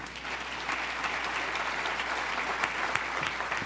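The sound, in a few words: congregation applause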